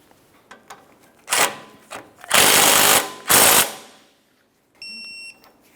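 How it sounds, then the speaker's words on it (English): A torque wrench on a Honda Accord ball joint nut gives short ratcheting bursts and longer grinding pulls close up, followed by a brief electronic beep. "Start on the ball joint nut, bottom it out, and then torque it to 65 foot-pounds."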